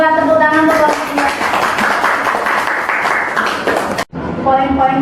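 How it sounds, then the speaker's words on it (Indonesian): Classroom applause for a student group: a burst of clapping from a class of people, rising after a voice speaks and lasting a few seconds before cutting off, with speech resuming right after. "Tepuk tangan untuk kelompok 2."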